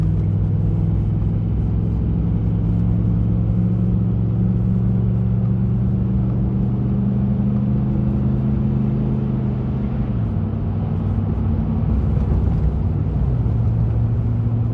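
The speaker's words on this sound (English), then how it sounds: "so y'all can listen as far as road noise" Maxxis tires roll over a bumpy road at steady speed, giving a constant low rumble and drone from inside the car with no talk.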